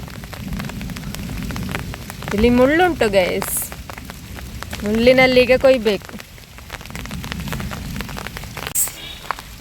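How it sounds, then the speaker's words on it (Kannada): Steady outdoor rain, the first of the season, patters on a surface throughout while crepe jasmine flowers are picked, with people talking over it in two bursts; no distinct thunder stands out. "ಮಳೆಯ ಜೊತೆಗೆ ಸಿಡಿಲು ಕೂಡ ಉಂಟು"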